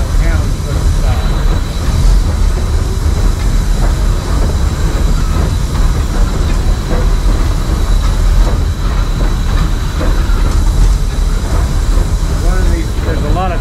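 Western Maryland Scenic Railroad steam locomotive 1309 backing up, heard from inside the cab: a loud, steady rumble of the engine with rail clatter and occasional squeals throughout.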